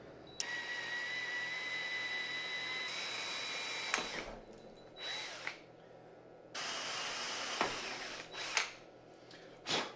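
A small power drill whirs in several bursts while drilling out a bolt hole in metal, starting and stopping with short pauses between runs, close and fairly quiet, no talking.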